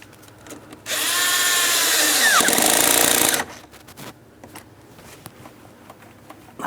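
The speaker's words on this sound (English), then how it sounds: "and then of course I'm going to tighten that clamp." A power tool whirs for about two and a half seconds while a hose clamp is tightened on the air intake of a 2003-2007 Cadillac CTS 3.6L V6, loud and close. Quiet shop noise surrounds it.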